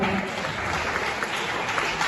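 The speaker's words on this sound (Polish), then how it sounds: "I teraz bardzo proszę, brawa." An audience at an election debate claps steadily and fairly loudly for a couple of seconds, a dense continuous patter of applause with no voices.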